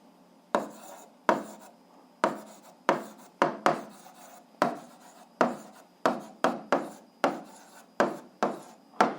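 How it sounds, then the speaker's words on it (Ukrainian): A pen writes an answer by hand in a physics exercise, close and quiet, in short scratchy strokes broken by brief pauses, with no talk. "записуємо відповідь, пишемо відповідь"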